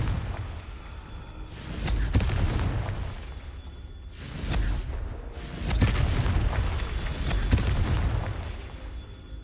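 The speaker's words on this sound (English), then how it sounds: "looks like we're going to be blasting some stones" In Hogwarts Legacy, the Confringo blasting spell bursts against stones, heard as a run of booming explosive whooshes and cracks that swell and fade in several waves over a low rumble.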